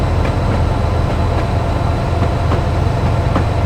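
A train engine labours uphill under added throttle on a gradient during a Royal Train railtour, giving a steady, loud low rumble with faint rhythmic beats and no talk.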